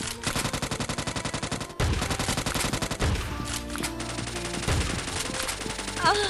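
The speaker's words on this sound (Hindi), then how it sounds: "मैं शॉटगन चलाता हूँ तो कुछ ऐसा ही होता है" Shotgun fire in the mobile battle-royale game Scarfall 2.0: a fast run of evenly spaced blasts, then several heavier separate shots with short gaps, loud and up close.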